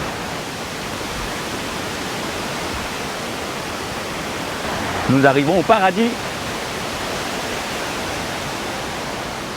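Paradis waterfall in Guadeloupe pours steadily as a broad, constant rushing roar, with someone speaking briefly over it.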